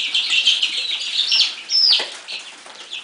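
Baby chicks, one of a brood of 31 being moved into a box, chirp and peep in a steady high cheeping chorus, with a brief flutter of wings; close and moderately loud, no talking.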